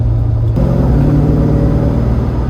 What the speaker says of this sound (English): And the engine sounds fantastic. It's got that wonderful burbly noise, isn't it?